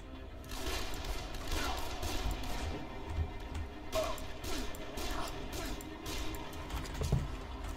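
Scattered gunfire cracks through a dense, noisy battle scene in the Dead Island zombie video game, with repeated sharp shots over a constant rumbling din.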